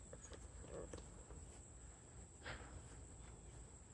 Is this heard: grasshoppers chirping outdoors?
yes